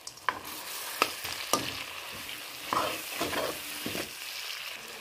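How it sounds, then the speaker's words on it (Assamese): Duck meat fries with coriander and bon jaluk in a pan, a soft sizzle punctuated by several sharp scraping clatters of a spatula stirring against the metal, close and fairly quiet, with no talk. "আকৌ লৰাই দিওঁ অকণ।"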